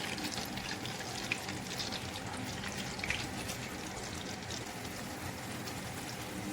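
Chicken wings, the last batch, fry in very hot cooking oil; a steady crackling sizzle with scattered pops, constant and close.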